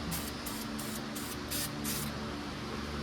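A spray can sprays paint onto a race car trunk in about seven short hissing bursts over the first two seconds. The hiss is close and crisp above a steady low background hum.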